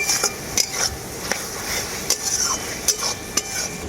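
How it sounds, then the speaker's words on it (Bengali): Chopped tomato is stirred with spice paste in a sizzling pan, a spatula clinking and scraping against the metal in a steady rhythm of sharp taps over a constant background fry. "টমেটোটাকেও মশলার সাথে আমি খুব ভালো করে কষিয়ে নেব"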